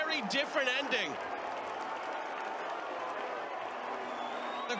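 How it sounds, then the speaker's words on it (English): A stadium crowd roars in a steady wash at a World Cup qualifier football match between Dominica and Jamaica, with sharp whistles and shouts at the start before settling into a constant distant din. "The crowd is incensed here."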